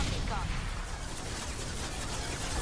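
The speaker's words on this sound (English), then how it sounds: "I got a gunship firing God knows how many bullets per second at me" A gunship in Mass Effect 2 fires bullets rapidly, producing a dense, continuous roar of gunfire that fills the whole short stretch at a constant loud level.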